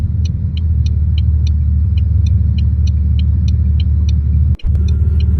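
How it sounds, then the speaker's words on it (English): School bus engine driving on a route, a loud steady low rumble with a repeating faint ticking, close and continuous, no talk. "School bus."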